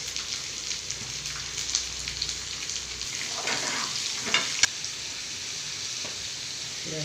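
Chopped onions, small shallots or larger onions, sizzle steadily in a home pan with a pinch of salt, a continuous close hiss with a few sharp spoon scrapes and crackles partway through.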